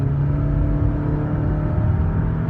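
A 2017 Jeep Renegade Latitude with a 9-speed transmission accelerates, its engine a steady, loud low rumble and whir building without a break, close up from inside the cabin.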